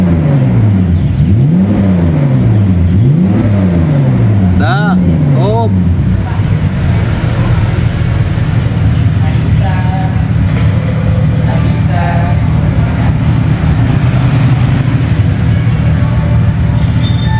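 BMW engine breathing through a Fujitsubo exhaust, loud and close, with several rising-and-falling revs up front, then a steady sustained drone under brief voices.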